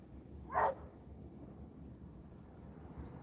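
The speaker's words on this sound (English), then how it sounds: "What you think about the barking? You're not going to yell at that dog?" A single dog bark sounds at a distance in a quiet outdoor setting in Los Angeles, one brief faint burst over low background hum.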